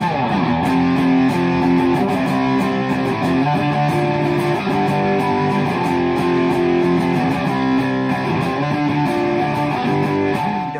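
Heavily distorted electric guitar through a distortion pedal in turbo mode, playing a continuous riff with sustained, saturated chords, loud and close with no talking.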